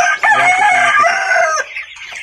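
A pet rooster gives one loud, close crow that lasts about a second and a half and then trails off, with quiet farmyard sounds behind it.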